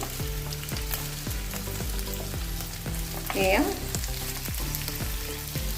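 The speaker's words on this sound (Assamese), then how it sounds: "তেতিয়া আমাৰ এইটো চিকেনটো এনেকৈ ভাজি লোৱা হৈ যাব" Chicken pieces frying in a pan, giving a continuous near sizzle with regular rhythmic scraping as the meat is stirred and turned. A short vocal sound cuts in briefly midway.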